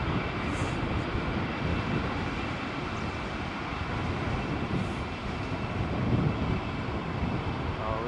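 An aircraft on the runway at Heathrow during Storm Ciarán, heard as a dense, even roar of engine and wind noise that holds steady throughout, without any speech.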